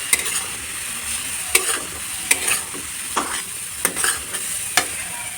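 Spatula scraping and stirring suji upma in a hot pan, with steady frying sizzle underneath and a series of sharp, irregular scrapes close to the microphone.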